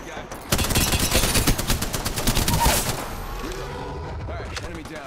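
Rapid automatic gunfire in a shooting video game, a dense burst of loud close shots for about two seconds that stops abruptly, followed by quieter game ambience.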